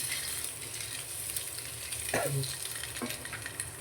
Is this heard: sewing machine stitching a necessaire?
no